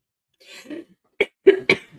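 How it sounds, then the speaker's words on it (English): A person coughs three sharp times in quick succession, near and loud, after a faint breathy throat sound, with silence between the bursts. "Coughing."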